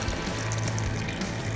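Water poured from a tap into a nearly full pan of pork broth for homemade pho, a steady, fairly quiet splashing stream with a low gurgle running throughout, heard alone without talk.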